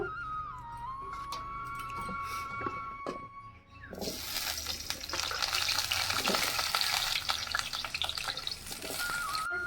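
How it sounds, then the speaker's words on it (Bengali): Potatoes hit hot oil in a wok: after a few quiet clinks and a high tone, a loud, continuous sizzle bursts in and keeps crackling steadily near the microphone. "এই কড়াইয়ের মধ্যে তেল দিয়ে দিলাম, আলুগুলো ভেজে নেব"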